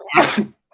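One sharp human sneeze from a person sitting close by, brief and loud, then it cuts off into silence.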